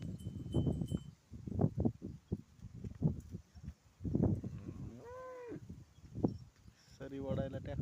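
Cow and calf on a farm, a few short low moos and bleating calls heard amid ongoing nearby talk from several people.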